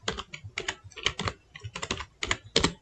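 Typing on a computer keyboard, quick clusters of crisp key clicks in an uneven rhythm, close and clear with no talking over them.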